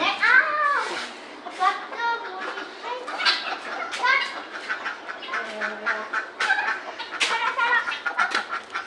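Chickens on a rooftop mini farm cluck and squawk close by in a busy, overlapping chatter, with short calls bursting out repeatedly throughout and a person's voice mixed in.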